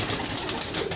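Breeder pigeons in a loft in Bhati Gate, Lahore, give a brief low cooing amid soft fluttering and general loft noise, close and moderately loud.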